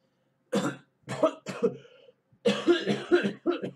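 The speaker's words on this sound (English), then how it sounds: "coughing" A handful of harsh coughs in separate bursts, close to the listener, with short pauses between them.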